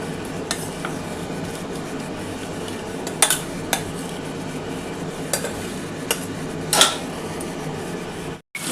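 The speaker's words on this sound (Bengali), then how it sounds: "এবার এটা আমি কিন্তু ওই কড়াটার মধ্যে ঢেলে দেবো।" Lightly crushed whole garam masala (cloves, cinnamon, cardamom) is tipped into a kadai, giving a soft steady rustle with a few brief metallic clinks and light sizzling.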